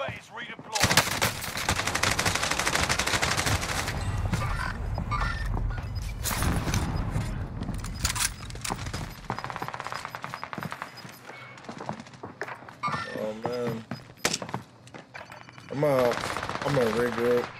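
Rapid video game gunfire rattles in dense automatic bursts and scattered shots over several seconds, loud and close, then thins out as other game sounds and effects take over toward the end.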